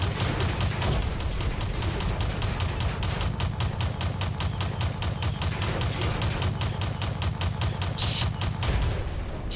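A Molot gun in a shooter game fires a long, steady stream of rapid, evenly spaced shots. The shots are loud and close and run almost without a break.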